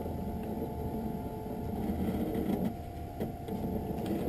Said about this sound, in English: It's going to come down and trace the shape of your frame onto the lens to make sure it's large enough to cut out.